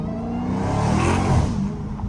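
A Dodge SRT Hellcat roars under heavy throttle, its engine note climbing and holding loud and close as the tires spin, a dense, sustained mechanical howl without speech.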